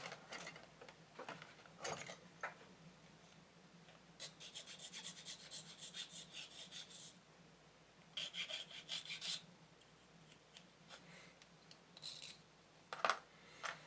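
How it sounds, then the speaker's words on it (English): Filing a small plastic part of a Hornet dropship model kit, soft rasping strokes in short bursts with pauses between them, close and quiet with no talking. "I got a little bit of filing to do."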